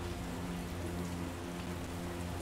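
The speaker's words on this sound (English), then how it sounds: "What a downpour!" Steady heavy rain hisses as a dense, constant wash through a downpour in The Witcher video game, with no talking over it.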